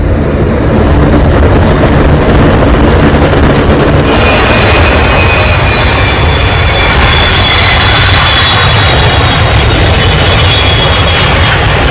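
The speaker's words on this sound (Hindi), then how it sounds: "ये मालवाहक विमान देखिए, ये सब राहत सामग्री लेकर पहुंचा है श्रीलंका" A C-130 cargo plane, landed in Sri Lanka with relief supplies, roars loudly and continuously with a dense, steady engine drone that shifts slightly in tone partway through.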